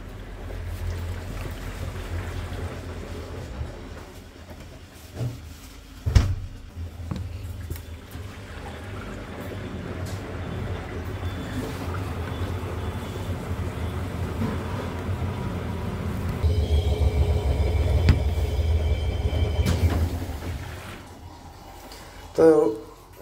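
Whirlpool top-load washing machine spinning, a steady low rumbling whir with watery swishing that swells louder toward the end, a couple of sharp knocks, and a voice speaking briefly.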